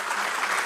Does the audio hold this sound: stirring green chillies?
no